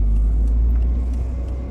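A Mercedes SLK200 roadster drives along a beachfront road, a steady low engine and road rumble up close with no talking.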